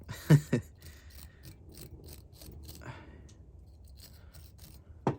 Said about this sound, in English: This is obviously way too thick of a wire brush